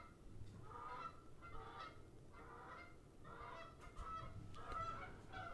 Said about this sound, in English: I'm not sure if you can hear, but there's geese.